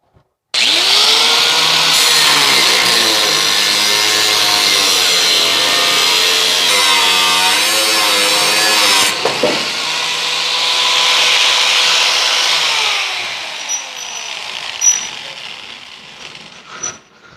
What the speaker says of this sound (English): We're going to the cutoff wheel.